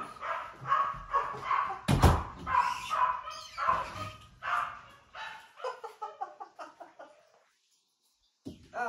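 A dog barking indoors during house window cleaning, a rapid run of loud barks and yips that tapers into softer whimpering ones before falling silent, with one final bark at the end.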